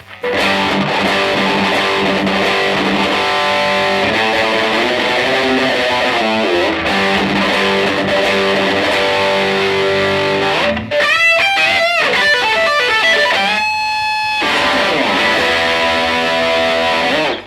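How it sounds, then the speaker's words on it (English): Electric guitar through a Tube Screamer stacked with a distortion pedal, giving a cranked vintage-tube-amp style 80s or 90s metal tone, plays a loud saturated riff alone with sustained chords, a brief break and bursts of choppy palm-muted notes. "So if we turn the Tube Screamer on, what we can simulate is a vintage tube amp cranked all the way up and then adding a distortion pedal to it."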